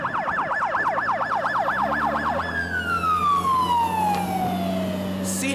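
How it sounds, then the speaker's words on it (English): A fire truck running with lights and siren past a police DUI and driver's license checkpoint in Buena Park, its wailing siren cycling loudly and then sweeping down in pitch as it passes, over road traffic noise. "Thank God those firefighters have lights and sirens, because now they had to go into oncoming traffic to avoid the checkpoint."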